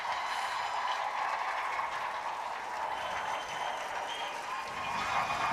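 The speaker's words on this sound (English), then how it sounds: "Now the crowd is really getting excited about these" An audience at the Westminster Kennel Club dog show applauds steadily, a dense even patter of many hands heard from some distance, without speech.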